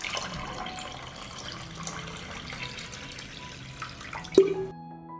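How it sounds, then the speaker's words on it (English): Hot water poured into a pot holding glass jars set on a cloth, a soft steady trickle and splash under faint background noise, ending with a brief clink before cutting out. "I pour hot water up to the height of the lid."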